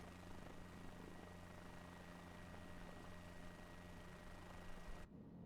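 A helicopter in a flight simulator game hums and whirs steadily at a low level with a constant rotor and engine drone, cutting off abruptly just before the end.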